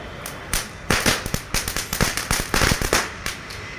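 A string of firecrackers goes off nearby in rapid, irregular bursts, sharp cracks and pops following one another over a few seconds, loud and with no talking.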